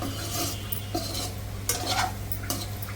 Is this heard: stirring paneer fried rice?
yes